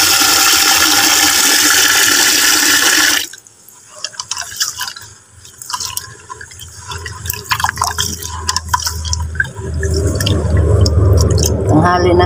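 Rice is washed in water by hand, with loud splashing and pouring at first, then softer sloshing, swishing grains and drips before the water noise swells again.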